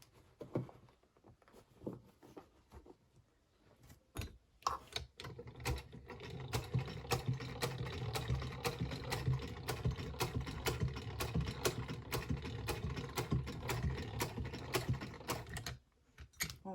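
A sewing machine stitches a pair of trousers in quick, rapid clatter, with a few slow separate stitches first before settling into a dense, steady run of mechanical ticking, fairly quiet and close.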